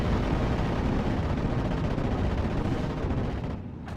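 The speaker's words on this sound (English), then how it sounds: "Artillery barrage onto this M3 half track." Continuous heavy artillery barrage in a World War II strategy game, striking an M3 half-track: a dense, loud, unbroken rumble of blasts and gunfire that holds steady for about four seconds and thins slightly at the end.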